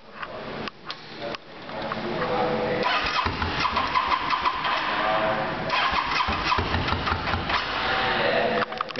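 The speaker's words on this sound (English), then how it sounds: "Let's start it up and see what it sounds like." A Yamaha XVS650 V-Star motorcycle engine cranks with a few short bursts, then catches and settles into a steady, close idle rumble that runs to the end.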